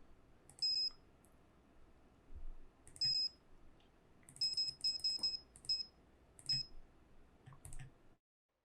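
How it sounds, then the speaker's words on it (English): A phone alarm beeps in a Nancy Drew video game, sounding as short clusters of bright electronic tones repeated several times with soft clicks between them, then stopping abruptly. "I think you just set your alarm on your phone"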